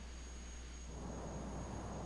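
A jet airliner's engines roar steadily in reverse thrust after landing, a broad, constant rushing drone heard from inside the aircraft.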